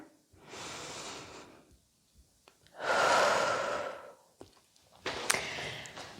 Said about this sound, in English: Deep breath in. Deep breath out.